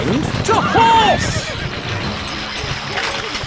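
A horse whinnies loudly in a video game, a rising and falling neigh near the start, followed by soft hoof clip-clops and background game sounds.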